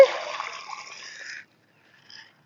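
Water poured onto garden soil splashes steadily for about a second and a half, then stops, leaving near silence with a faint trickle after.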